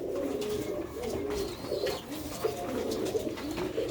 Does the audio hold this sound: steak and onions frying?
no